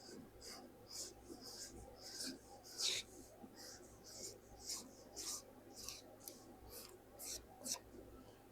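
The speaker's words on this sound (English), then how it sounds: "And we're going to draw this line." A marker drags across fabric to draw a line on a patchwork dress piece, giving soft, repeated scratchy strokes in short bursts, faint and close.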